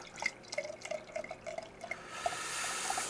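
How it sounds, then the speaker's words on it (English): La Trappe Belgian quad beer is poured aggressively, with quick dripping, glassy plinks that give way to a soft, steady fizzing rush as the glass fills; quiet and close. "I'm going to give this an aggressive pour."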